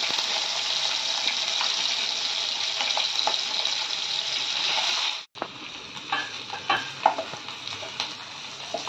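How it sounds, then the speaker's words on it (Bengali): Chopped small onions, about ten, frying in a pan for a chicken curry, giving a continuous close sizzle that cuts out briefly, then returns with repeated scraping stirs and clinks, with no voices. "এবার কুচো করা পেঁয়াজগুলো দিয়ে দিচ্ছি"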